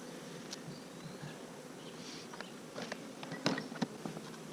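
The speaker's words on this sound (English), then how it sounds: "Try and capture some bees here." Bees hum in a steady, soft drone around an open beehive during a summer hive inspection, with scattered faint ticks and taps over the buzzing and no talking.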